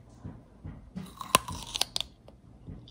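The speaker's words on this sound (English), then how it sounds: "That sound is from a grape." A sharp, crisp crunch of a bite into a firm grape, followed by a few smaller crunchy chewing sounds, close to the mic with no talking.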